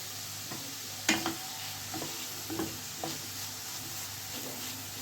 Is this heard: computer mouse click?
no